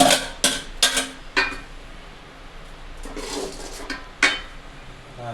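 Several clattering splashes and thuds as onion, okra and tomato drop into a pot for okra dal buttermilk curry, in short bursts separated by quieter simmering noise.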